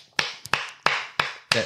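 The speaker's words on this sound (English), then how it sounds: "I'll give myself a clap" Five sharp single hand claps in a loose, slightly uneven rhythm, close and crisp, each snapping off quickly into a short decay with no voices.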